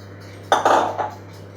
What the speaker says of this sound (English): Just mix it again in the same direction till everything is incorporated.